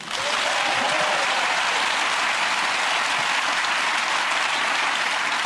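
Studio audience applause welcoming German comedian Henning Wehn on a British panel show, an even wall of clapping that starts at full strength and holds steady for the whole stretch, with no speech over it.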